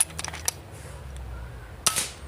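An FX Impact MK2 air rifle fires a sharp, short pop near the start and another crisp shot toward the end, with faint clicks and quiet room noise between.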